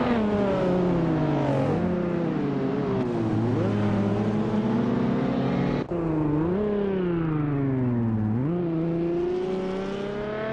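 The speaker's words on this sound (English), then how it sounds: "We've got some exciting AI car races happening right now." AI-driven race cars in a racing video game rev and shift through high, whining engine tones that rise and fall in pitch in several sweeping runs, loud and continuous, with no voices.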